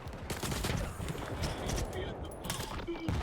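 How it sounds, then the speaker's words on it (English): Skif's pistol in STALKER 2 firing, with the headshot hit sound amid a steady backdrop of distant gunfire that continues throughout, while a voice murmurs underneath. "Headshot sound, did not one-tap."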